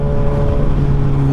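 A Kawasaki Ninja ZX-6R sport motorcycle engine hums at a steady, even pitch, recorded loud and close from inside the rider's helmet, with a continuous low drone and no talk.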